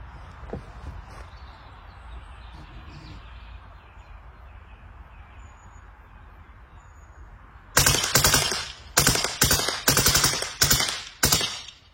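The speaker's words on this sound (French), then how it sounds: "une petite rafale de 19 en full auto" An LCS SK19 airsoft gun fires several rapid full-auto bursts, sharp rattling strings of shots that start abruptly after a stretch of quiet outdoor ambience.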